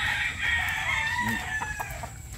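Chickens being fed cluck close by in a short burst, with a rising vocal call over a low rustling background and a few soft pecking taps.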